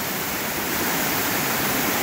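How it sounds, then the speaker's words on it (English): Clark Falls, the last waterfall in the Heritage Falls group, pours as a loud, close, unbroken roar of rushing water, with no voices. "Beautiful waterfall."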